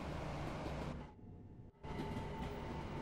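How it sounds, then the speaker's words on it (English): Another train speeds past in the Train Sim World 2 simulator on the Balham to London Victoria route, a loud broadband rumble and rush that drops away briefly and then surges back. "Oh, that other train's got speed."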